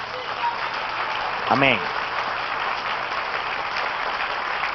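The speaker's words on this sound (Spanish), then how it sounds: "Dale el aplauso y alábalo." A church congregation applauds during a Spanish-language sermon, a steady wash of clapping filling the whole stretch, with one voice briefly calling out over it near the middle.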